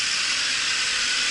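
Loud, continuous high-pitched hiss of steam from an Arctic Steamer ice dam removal steamer, close and steady throughout the short span with no talking.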